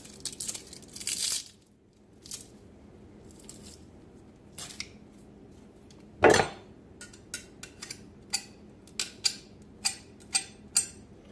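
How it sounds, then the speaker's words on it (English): The blunt side of a kitchen knife scrapes crushed garlic cloves off a metal garlic press, giving sparse metallic scrapes, clicks and taps separated by quiet gaps. "use the blunt side of my knife, scrape off 1 clove of garlic"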